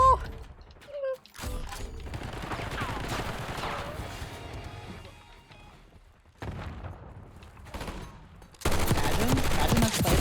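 Gunfire in a first-person shooter video game, bursts of rapid shots and thuds separated by short gaps, ending in a loud dense volley; a voice briefly speaks near the start.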